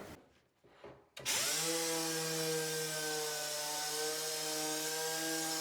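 A power saw spins up with a sharp jolt and then holds a loud, steady, high-pitched whine while cutting the ends off old organ wood for a bench, close and alone.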